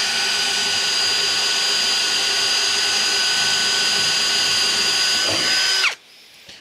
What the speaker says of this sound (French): perçage directement et tout de suite en vitesse 2